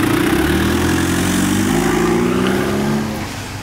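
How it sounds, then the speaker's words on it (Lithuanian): A red Yugo car's engine runs after being started with ether sprayed into the intake, a loud close idle with rising and falling revs that eases off toward the end. "Pavyko užkurti su eteriu."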